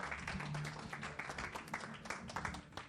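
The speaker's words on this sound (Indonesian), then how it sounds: "Yang ready sekali lagi berikan tepuk tangan yang paling meriah" Audience applause at a business seminar, a dense wash of clapping spread across the room, steady and moderately loud throughout with no clear individual claps standing out.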